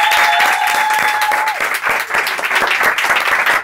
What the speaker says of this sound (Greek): Ένα δυνατό χειροκρότημα για τα παιδιά,